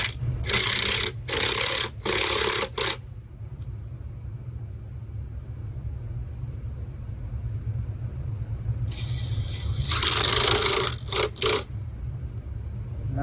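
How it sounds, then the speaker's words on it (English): Ratcheting as hose clamps are tightened on a Lexus RX350 engine comes in two close clusters of quick clicks, at the start and near the end, over a steady low background hum. "Tighten the clamps."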